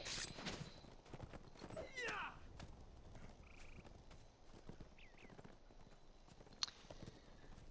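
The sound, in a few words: horse hooves of a rider riding in, in LOTRO video game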